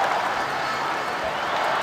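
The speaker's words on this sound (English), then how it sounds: "The crowd are out in numbers to watch this amazing team become international cup winners." Stadium crowd noise from the Dream League Soccer 2018 video game during a Brazil versus England international cup match, a steady broadband roar of cheering and applause that holds at an even level throughout.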